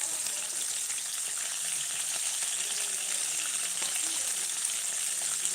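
Fish sizzles steadily in hot oil in a pan, a dense, continuous frying hiss that stays even and close throughout with no talk over it.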